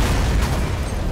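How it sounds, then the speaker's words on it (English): A loud explosion in the video game Borderlands, a dense, broadband boom with a rumbling low end that holds for about a second without fading much. "Explosions."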